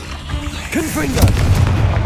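Confringo fire spell from Hogwarts Legacy cast with a quick whooshing flare, then a low rumbling boom, mixed with brief voice sounds.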